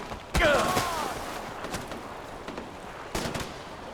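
Far Cry 4 combat gunfire: a sharp close shot followed by scattered distant shots and a second loud report near the end over a busy battle backdrop.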